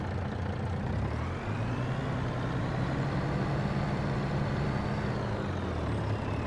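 Truck engine in the Farming Simulator 25 video game runs as a steady, loud low drone with a faint rising whine, continuous and without talk.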